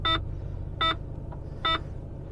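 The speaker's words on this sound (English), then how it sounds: "Should beep." A vehicle chimes as it is shifted into low range, three short, clear electronic beeps spaced evenly under a low steady engine hum, close and alone without talk.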